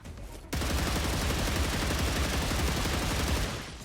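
Sustained rapid automatic gunfire in a video game, loud and continuous after a brief quiet start, fading slightly at the end.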